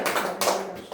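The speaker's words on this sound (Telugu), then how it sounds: "చప్పట్లు కొట్టితే" Brief burst of hands clapping in a church gathering, a few quick claps up close that end abruptly.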